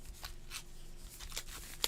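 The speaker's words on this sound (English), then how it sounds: "So we're going to shuffle them because then it will be a surprise." Trading cards being shuffled by hand at a Pokémon and Yu-Gi-Oh card opening, a soft run of quick riffling bursts with a sharper snap at the end, close and quiet with no talking.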